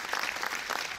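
An audience at a French film preview screening claps in a steady, even patter throughout a brief moment, moderately loud with no talk.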